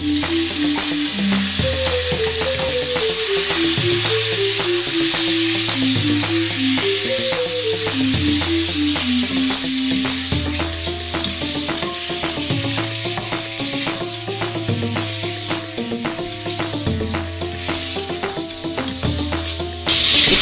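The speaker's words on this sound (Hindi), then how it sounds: "इसको हम बटर और ऑयल में अच्छी तरह सौते कर लेंगे" Chicken wings and bony chicken pieces sauté in butter and oil in a pan, sizzling loudly and continuously up close while being stirred, with steady frying crackle throughout.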